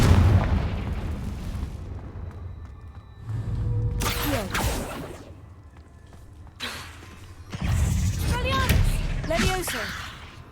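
Confringo fire spell explosions in the Hogwarts Legacy video game, several booming blasts with bursting crackles heard in separate waves, loud and close, with a voice casting spells in between.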